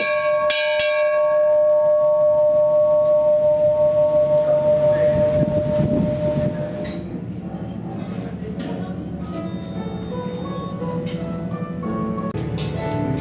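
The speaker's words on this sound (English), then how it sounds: "whilst they waited patiently for the noon bell" Ship's noon bell on a cruise, several loud ringing strikes at the start with a long fading resonance, followed by softer clinks and background ambience.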